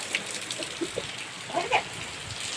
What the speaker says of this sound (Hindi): बहुत तेज बारिश आ रही है